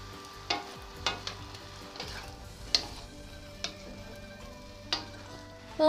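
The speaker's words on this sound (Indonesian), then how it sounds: "Diaduk rata dulu." A utensil stirs fried egg and soaked, softened Chinese cabbage in a pan, giving scattered scraping knocks and clicks every second or so over a low, steady sizzle, close by with no talking.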